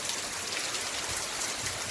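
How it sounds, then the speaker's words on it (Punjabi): Heavy rain pours in Punjab, a dense, constant hiss of falling water with no break, loud and close, with no voices heard. "ਬਹੁਤ ਹੀ ਜ਼ਿਆਦਾ ਜਿਹੜਾ ਮੀਂਹ ਦਾ ਹਿਸਾਬ ਆ ਵੱਧ ਗਿਆ ਵਾਰਸ਼ ਫੁੱਲ ਹੋ ਚੁੱਕੀ ਆ"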